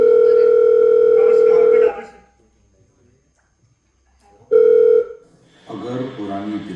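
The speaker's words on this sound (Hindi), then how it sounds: "किसका फोन बज रहा है?" Electronic telephone tone rings loud and steady for about two seconds during a Hindi stage play, stops, then sounds again briefly before a voice begins talking.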